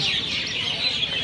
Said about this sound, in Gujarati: એકદમ શાંત વાતાવરણ પક્ષીનો કલરવ